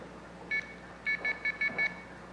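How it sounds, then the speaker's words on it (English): A payphone's coin tone oscillator signals an inserted quarter: one short electronic beep, a brief pause, then a quick, even run of five clean beeps, clear over faint line hiss. "when a quarter is inserted into this payphone, the totalizer detects that, and it triggers the coin tone oscillator."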